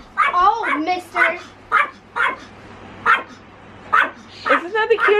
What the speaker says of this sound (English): Isn't that the cutest little bark you ever heard?